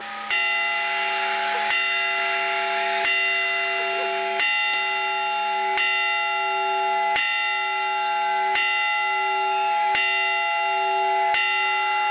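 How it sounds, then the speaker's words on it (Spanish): Church bells strike nine or ten evenly spaced, ringing tolls at a New Year countdown in Spain, each stroke loud and sustained with long overtones and no voices over them. "Y ahora las campanadas."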